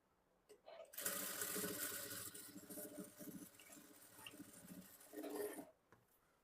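A sewing machine stitches a blouse in a continuous close whir lasting several seconds, easing off briefly and then running again in a short final burst.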